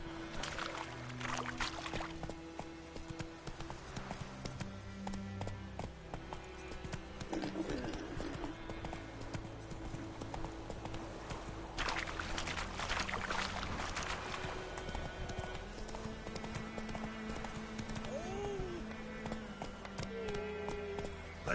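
A horse's hooves gallop in The Witcher 3 on PS4, a steady, rhythmic clip-clop heard over game music and ambience.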